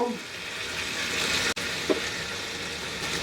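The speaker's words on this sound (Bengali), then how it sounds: "আমি এখানে এক টেবিল চামচ তেল গরম করে এর মধ্যে প্রায় আধা কাপের মতো টমেটো সস দিব" About half a cup of tomato sauce sizzles in a tablespoon of hot oil in a pan, a steady, close crackling hiss with one brief dropout partway through.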